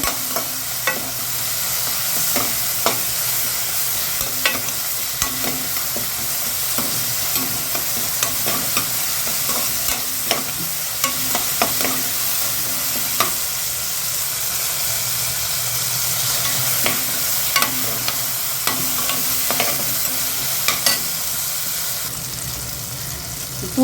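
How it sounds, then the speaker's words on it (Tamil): Tomato and onion sauté with steady sizzling in a hot pan, frequent stirring clicks and scrapes, close by and continuous with no talking. "ஒரு தக்காளி வந்து நம்ம இதிலே போட்டு வதக்குறோம்"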